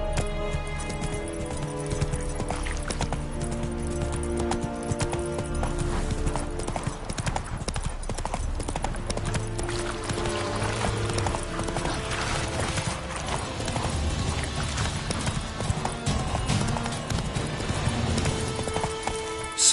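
Roach the horse gallops in The Witcher 3: Wild Hunt, rapid steady hoofbeats under game music and clattering effects, with brief voice lines spoken over them.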